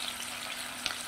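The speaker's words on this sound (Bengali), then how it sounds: "এবারে পনিরটা ভেজে নেব।" A whole block of paneer fries in hot oil, giving a steady close-up hiss and crackle with a brief sharper spit of sizzling partway through.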